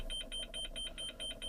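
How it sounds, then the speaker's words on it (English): A high electronic beep from a tractor's engine control unit showing a code, repeating in a steady, rapid pattern, about six pulses in under two seconds, clear and close over a low hum. "the beeping noise is a code that comes up, but that's normal."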